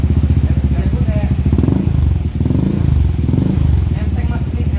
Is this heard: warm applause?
no